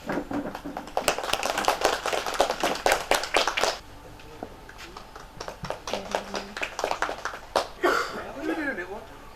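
Audience applause at a family felicitation ceremony honouring a Malikappuram temple head priest, heard as bursts of dense clapping that stop, give way to quieter crowd noise and scattered claps, then swell into clapping again near the end.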